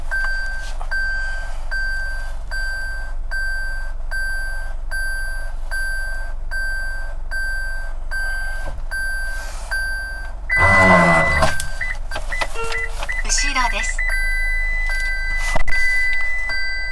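Steady high sensor warning tones beep over engine hum inside a new Toyota Harrier at night, then a sudden burst of noise and a jolt as emergency braking engages, followed by more warning tones.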